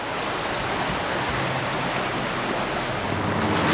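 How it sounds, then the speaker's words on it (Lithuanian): Strong stream of rainwater running off the mountains near Ribeauvillé, rushing and hissing steadily at close range with no break and no voices. "jau vanduo susikaupęs, jau nuo kalnų, jau stiprokas srovė"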